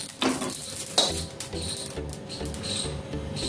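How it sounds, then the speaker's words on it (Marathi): Roasted cumin seeds are scooped out of a pan with the gas switched off, giving a few sharp metal clinks and scrapes of utensil on pan over faint background noise. "जिरे काढून घेते मी"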